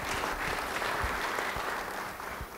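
Church congregation applauding a preacher during a sermon, steady dense clapping from many hands that fills the whole moment without any voices.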